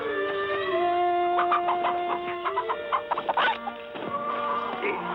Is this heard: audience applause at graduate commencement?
no